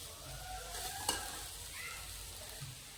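Spice tempering sizzles steadily in a pan for instant semolina idli, a soft continuous frying hiss close by, with one brief clink of stirring partway through.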